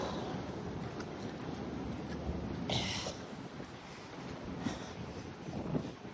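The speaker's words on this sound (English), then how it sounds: "Not liking this wind." Wind gusting across an outdoor microphone, a steady broadband rush with brief louder buffets.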